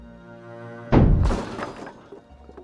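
A projectile from a medieval siege machine smashes into a castle wall in the Medieval Machines Builder game: one heavy thudding impact, then a short burst of crumbling, shattering debris that quickly dies away.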